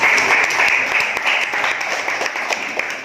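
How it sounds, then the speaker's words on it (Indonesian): Students in a classroom clap together, brisk steady applause heard close by for a few seconds without pause. "Iya, beri tepuk tangan buat."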